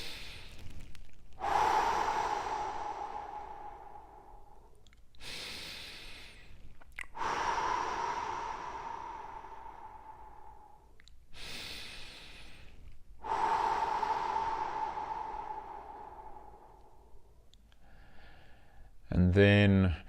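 Three slow, deep breaths taken during a guided relaxation exercise before a run, each a long airy inhale and exhale separated by short pauses, close and clear, ending with a brief sharper sound.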